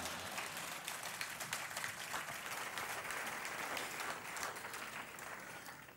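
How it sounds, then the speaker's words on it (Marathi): Audience applause during a speech, a steady, fairly distant crackle of many hands clapping that carries evenly and fades slightly at the end. "उशिरा काय होईना पण वाजवताय टाळ्या"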